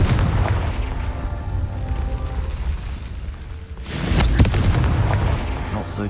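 A Confringo explosion spell cast by a wizard in a video game: a low rumbling bed gives way to a loud, broad booming blast with crackling debris that lingers for about two seconds.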